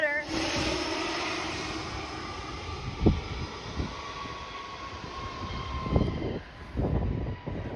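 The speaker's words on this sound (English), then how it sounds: "We got that one taxiing right in front of Boomers." Airplane taxiing at an airport, a steady broad engine roar heard from some distance and continuing throughout, with occasional louder thumps and gusts over it.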